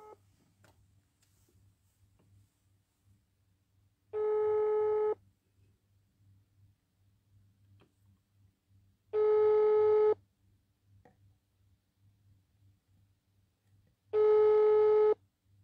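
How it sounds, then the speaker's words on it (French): A telephone call rings out on the line: three long, even ringback tones, each about a second, spaced roughly five seconds apart, with faint line hiss in the gaps. "Là, j'appelle Djiki."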